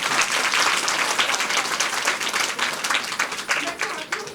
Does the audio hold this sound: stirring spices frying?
no